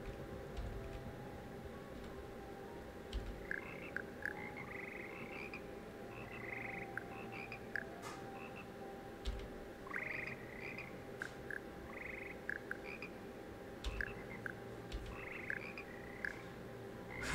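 A chorus of frogs croaks in Hogwarts Legacy, with short bursts of calls repeating in clusters over a steady low ambient hum and no talking.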